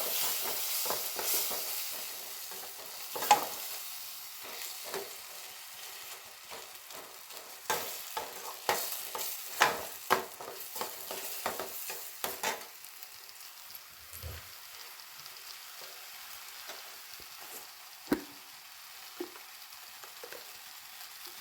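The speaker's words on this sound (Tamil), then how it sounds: "இஞ்சி பூண்டு இதையும் நல்லா வதக்கிடலாம், பச்சை வாசனை போகிற அளவுக்கு." Ginger garlic paste sautéing in a pan for a crab curry, with a soft, low sizzle broken by intermittent scraping and clinking stir strokes, busier early and sparser later; no one speaks.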